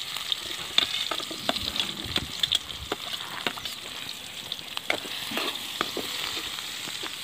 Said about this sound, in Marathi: नंतर हा कांदा टाकायचा